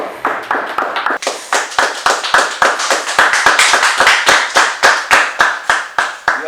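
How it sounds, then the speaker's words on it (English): Audience claps steadily at an interview show introduction, a close, lively run of many hands clapping together with sharp individual claps standing out throughout. "give it up for the one and only, ReachingNova. Make some noise, y'all"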